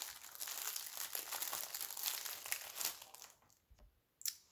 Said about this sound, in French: dans un papier transparent qui fait du bruit